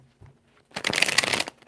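Tarot cards being shuffled in one quick riffling burst of crisp papery fluttering, close and clear, lasting under a second with no talk over it.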